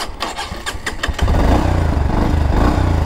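A Bajaj Avenger 160 Street cruiser motorcycle engine cranks and catches, then settles into a loud, deep, steady idle rumble close by.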